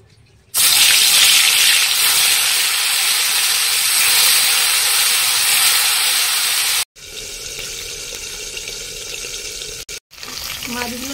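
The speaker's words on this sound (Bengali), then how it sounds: "তো তেলটা গরম হয়ে গেছে, আমি এখন মাছগুলো ছেড়ে দেবো।" Tengra fish are dropped into hot oil in a kadai and set off a sudden loud hiss that settles into a sustained sizzle. It briefly cuts out twice near the end.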